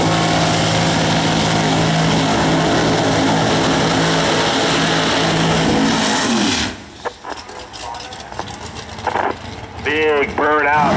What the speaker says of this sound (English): big burnout for Troy in the right lane